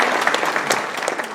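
A brief burst of audience clapping at a community alliance meeting welcomes a police lieutenant, close and fairly loud, lasting just over a second.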